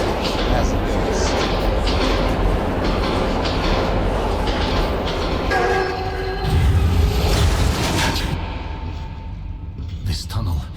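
Ghost train rumbling and clattering through a metro tunnel in Metro 2033: a dense, loud, continuous roar of rolling wheels and rail clatter, with the tone shifting midway and easing toward the end.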